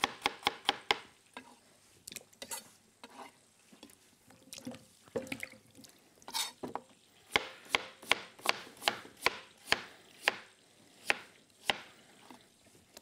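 Potatoes being thinly sliced into rounds for sarladaise potatoes in a French kitchen: crisp, close knife strikes against a cutting board, irregular at first, then settling into a steady, quick rhythm, with no talking.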